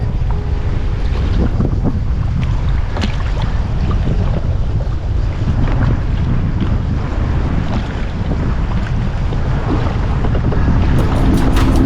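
Rough, high sea waves slap and churn around a kayak on the Adriatic under heavy, buffeting wind noise on the microphone, continuous and loud throughout.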